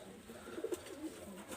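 Pigeons cooing softly, a Saki Salara generation male and an Oman Teddy female, with a few faint low coos clustered in the middle against a quiet background.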